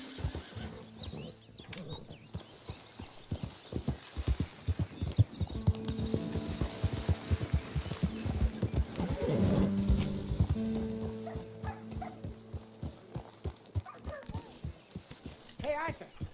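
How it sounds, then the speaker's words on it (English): Horse hooves clip-clop in a steady rhythm alongside snorts and whinnies in the video game Red Dead Redemption 2, with voices talking over a busy background. "Careful with that horse, Arthur"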